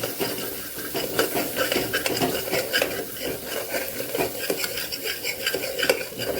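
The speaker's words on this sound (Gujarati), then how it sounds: "મસાલામાંથી તેલ છૂટું પડે ત્યાં સુધી આપણે આને પાછું સાતળવાનું છે।" Spice masala with turmeric sautés in oil for Vadodara-style sev usal, a dense close sizzle filled with rapid continuous scraping and clinking of a spoon stirring against the pan, no voices.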